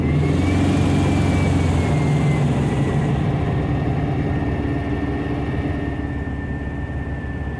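Vehicle engine running loud and steady, rising in revs toward higher RPM while being checked for a hesitation problem; a continuous close drone with a thin whine that eases slightly near the end, and no talk.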